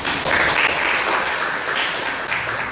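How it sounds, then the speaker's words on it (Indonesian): Classroom applause breaks out: a burst of clapping from many hands, dense and fairly loud, holding steady for a few seconds before easing slightly. "Ya, tepuk tangan."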